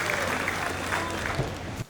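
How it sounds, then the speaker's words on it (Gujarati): An audience at a Jain religious gathering honouring fasting devotees claps together in a steady, dense round of applause that ends abruptly. "એકવાર જોરદાર તાળીઓથી વધાવીએ આવા તપસ્વી રત્નોને."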